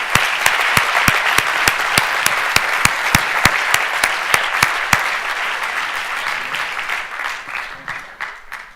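Audience applause for the finalists at a university thesis-presentation final, with dense clapping and a few sharper nearby claps standing out at first, then thinning and fading toward the end.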